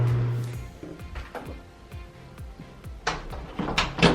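A bathroom door in a house swings shut, giving a few soft knocks and creaks up close, followed by a clearer latch-and-bump near the end, with no talking.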